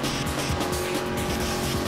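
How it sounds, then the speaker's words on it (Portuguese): A car skids with squealing tires in the street racing game Midnight Club 3 DUB Edition Remix, a dense continuous engine roar mixed with tire noise, loud and steady for the whole moment. "Ele vai derrapar ainda, é bem louco isso nesse jogo"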